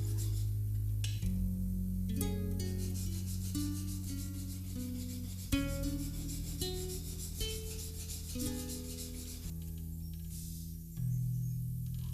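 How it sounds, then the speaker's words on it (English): A hand plane blade is rubbed back and forth on a sharpening stone lubricated with lamp oil, a steady close scraping that runs throughout with a few stroke changes and no talk. "And now I actually start sharpening the blade."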